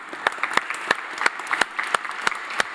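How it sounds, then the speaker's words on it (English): Sparse applause at a 2015 panel event, a small number of audience members clapping in distinct irregular claps for a speaker, moderately close with no talking over it. "So an applause to Ivan"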